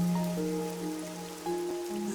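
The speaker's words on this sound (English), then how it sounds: "The rain, it never stops." Rain falls steadily in Master Detective Archives: Rain Code, a soft continuous patter heard behind sustained tonal background music, with no voices.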